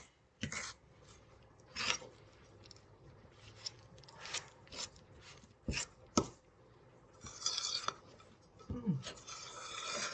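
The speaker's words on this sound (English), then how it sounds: "I'm gonna mix this pecans into the batter" Pecans being mixed into wedding-cookie batter, heard as close, irregular scraping and rubbing strokes in a bowl, with short bursts and quieter gaps, and no talking.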